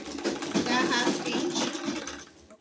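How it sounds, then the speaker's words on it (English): A sewing machine stitches bias tape along a dress hem in a quick, whirring run, heard close and partly under a spoken voice. "You continue sewing."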